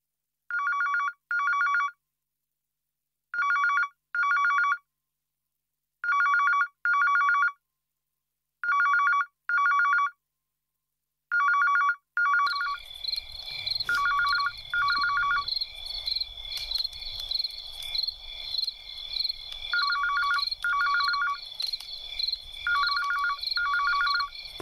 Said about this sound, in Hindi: फोन बज रहा है उसका